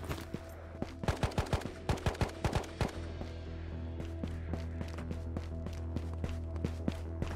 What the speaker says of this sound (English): It's gunshots.